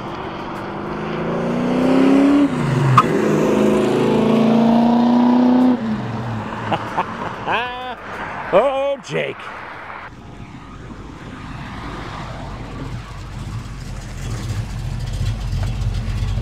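A 1969 Dodge Dart with a 4-speed manual, silver with black vinyl top, accelerating hard. The loud engine climbs through gears with rising whines and shift breaks, then settles into a rumbling cruise as someone speaks briefly.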